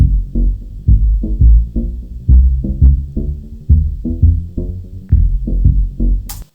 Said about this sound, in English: It's a little bit of a riser going on there.